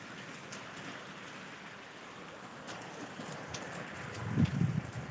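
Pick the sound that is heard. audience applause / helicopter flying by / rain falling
rain falling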